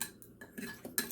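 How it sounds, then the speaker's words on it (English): A spoon scrapes and clinks against a bowl while gelatin gets stirred, a few quick, close, light strokes with gaps of quiet between them. "we're going to stir up this gelatin"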